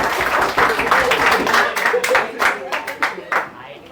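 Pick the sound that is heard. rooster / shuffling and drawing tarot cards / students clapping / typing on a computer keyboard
students clapping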